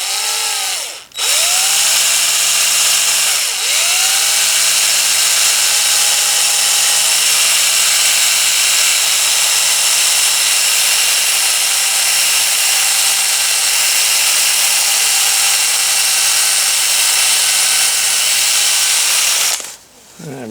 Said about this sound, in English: So let's get on and drill that hole.